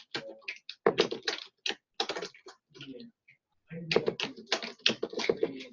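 Someone types on a computer keyboard while editing a spreadsheet, close and fast, in short bursts of clicking keystrokes with brief pauses between them, alone in a quiet room.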